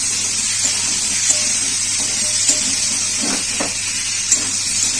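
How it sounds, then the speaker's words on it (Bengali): Potato pieces frying in hot oil with salt and turmeric in a home kitchen, a steady bright sizzling hiss that continues evenly with faint occasional pops and clicks, no talking. "এবার আলুগুলো লাল লাল করে ভেজে নিচ্ছি"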